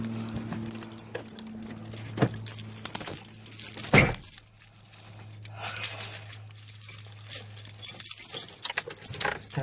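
Keys jangle and clink up close inside a car as someone gets in, followed by a sharp thump and faint rustling, with a low hum running underneath.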